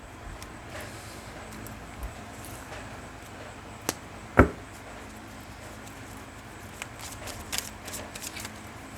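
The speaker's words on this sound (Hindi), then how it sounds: "final shuffle" Playing cards are shuffled in a final shuffle during a tarot-style love reading, giving soft, faint riffling and patter with a few sharper snaps midway, heard alone without talk.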